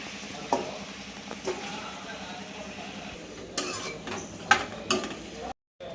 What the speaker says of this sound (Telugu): ఆయిల్ పోసుకోవాలి కావాల్సినంత చికెన్ వేసుకోవాలి